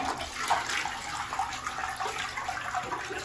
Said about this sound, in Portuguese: Vou dar a descarga.